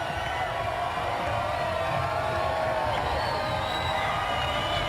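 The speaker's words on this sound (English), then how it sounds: "Listen to this crowd." Arena crowd at the Grand Garden Arena in Las Vegas during a Wild West Shootout match, a steady, dense roar of cheering and shouting that holds at full level throughout, with a few rising whoops over the din.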